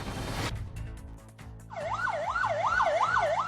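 An ambulance siren wails on a road, rising and falling in a fast repeating cycle over rumbling traffic. It comes in loud after a moment of engine noise and sounds close.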